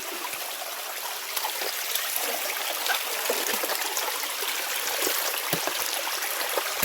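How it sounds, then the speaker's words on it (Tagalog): Fresh stream water flowing steadily, a continuous close rushing and trickling with no voices. "Karasa sa tubig gid eh. Sariwa ini na tubig ha."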